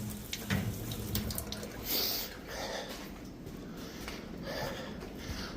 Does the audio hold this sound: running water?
yes